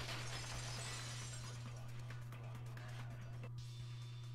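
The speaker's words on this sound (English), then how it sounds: "At the entrance hall, the girl heard the sound of the window shattering." Glass shattering in the video game Danganronpa 2, a bright crash of breaking glass that stays loud for several seconds over a steady low hum, with scattered debris tinkles and no talk.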